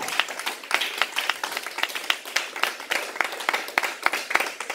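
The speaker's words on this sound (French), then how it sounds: "Acclame Jésus très très très fort si tu es dans la joie ce soir" A church congregation claps in a fast, steady rhythm during a worship service, with bright close hand claps and a lively crowd texture throughout.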